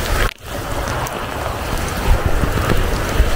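Steady rain falls in a cemetery at night, a broad, constant hiss with scattered drop impacts and some wind buffeting on the microphone.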